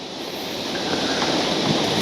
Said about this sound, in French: c'est impressionnant le vent